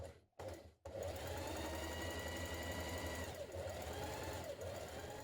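Sewing machine stay stitching around the back neck edges of a summer blouse, a steady close mechanical whir after two brief starts, running continuously and alone.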